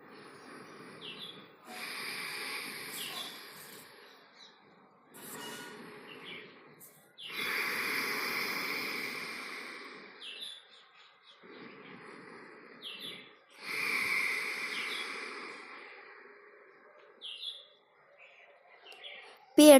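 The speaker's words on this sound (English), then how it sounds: "Set up ujjayi breath by contracting your throat muscles and breathing the way you are snoring." Ujjayi yoga breathing with the throat contracted, a soft snore-like rasping hiss in slow alternating inhales and exhales, each lasting a couple of seconds, close and quiet, with occasional faint bird calls in the background.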